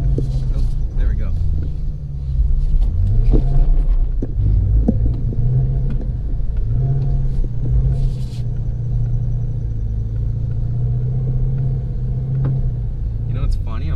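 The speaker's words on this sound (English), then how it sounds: "I'm giving it like as much gas as I can. We're just driving in circles." A Ford Mustang GT350 drives in circles on wet grass with its engine rumbling low and steady as the revs rise and fall, while people talk inside the car over it.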